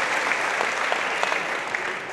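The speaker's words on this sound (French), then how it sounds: "s'il y a autant d'applaudissements" Applause from the crowd at the final of the 2017 French doubles pétanque championship forms a dense, sustained burst of clapping throughout, steady and fairly loud with no pause.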